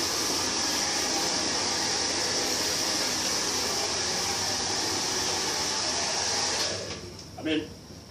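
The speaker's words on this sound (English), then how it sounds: "use a bit of the shine spray and then use the hair dryer." A hair dryer blows with a steady, loud broadband whoosh after shine spray is applied to hair, then cuts off near the end, leaving brief faint sounds.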